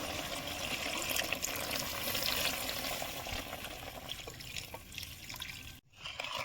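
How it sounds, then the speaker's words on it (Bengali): Water pours steadily into a hot pan of sautéed fish and radish curry for several seconds, a broad rushing hiss that cuts off abruptly near the end before resuming briefly. "এখন আমি ঝোলের পানি দেবো।"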